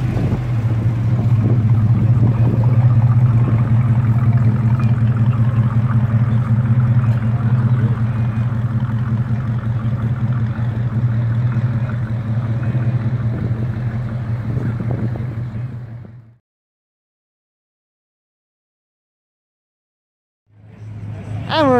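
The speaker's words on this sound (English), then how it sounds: "Little clamshell Chevy going and a little RT coming." Classic muscle cars, a clamshell-era Chevy and a Plymouth RT, rumbling past at a Mopar Friday night cruise, a steady loud engine drone for about sixteen seconds, then near silence before another engine rises.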